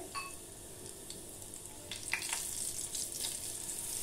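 Cumin seeds and asafoetida tempering in hot ghee in a kadhai, a steady close sizzle and crackle that swells slightly toward the end, with no talking.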